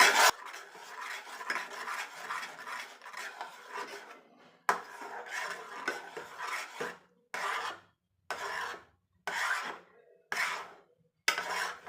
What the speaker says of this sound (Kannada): ಇದನ್ನು ಕೆನೆ ಇಲ್ಲದೆ ಇರೋ ಥರ ನೀಟಾಗಿ ಚೆನ್ನಾಗಿ ಮಿಕ್ಸ್ ಮಾಡ್ಕೊಳ್ಳಿ